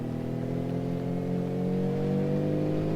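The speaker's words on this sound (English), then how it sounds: "the Piccolina is able to pull away a little bit on the acceleration through the lower gears" A Piccolina car in BeamNG Drive banger racing accelerates hard through its lower gears, a steady, close engine drone with rising harmonic pitch and no talk.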